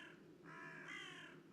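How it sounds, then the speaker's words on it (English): A raven gives one drawn-out, hoarse croak, fairly faint and alone, with no voices over it. "in there stepped a stately raven"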